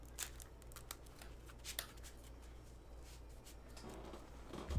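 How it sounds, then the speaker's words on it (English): A deck of Magic: The Gathering cards being shuffled at a Commander game table, soft rapid riffling and flicking runs with a few sharper snaps, steady and close, with a low hum underneath. "Shuffle my deck real quick"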